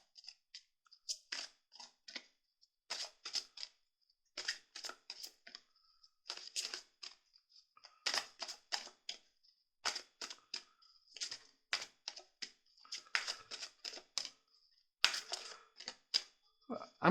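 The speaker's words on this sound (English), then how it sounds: "let's shuffle the cards to get the message for today" Oracle cards being shuffled by hand, a long run of soft crisp riffling flicks and taps in irregular bursts, quiet and close, with no talking.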